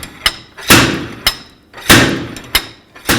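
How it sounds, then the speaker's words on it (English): Slide hammer yanking at a rusted rear wheel hub on a 2011-2014 Chrysler 200: three sharp metallic impacts, each followed by a longer grinding thud, loud and close with no talk. "Now I set up a slide hammer and we're going to pull this hub off"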